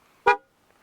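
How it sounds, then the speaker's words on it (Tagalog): A single short, nasal horn toot from a Kawasaki Ninja 250SL motorcycle sounds once, close and loud, followed by quiet. "horn."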